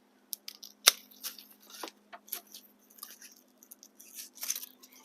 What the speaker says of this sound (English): So I'm just going to trim this off